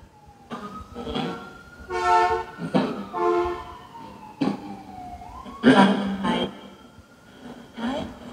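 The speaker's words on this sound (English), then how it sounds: "Did you guys hear that ambulance?" An ambulance siren wails in the distance, its tone sliding steadily, with a few short voices and knocks breaking in over it.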